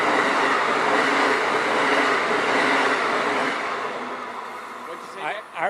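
A Metro-North train rolls through West Haven station, a loud, steady rumble of wheels and cars passing close by that gradually fades, with a brief squeal and a voice at the end.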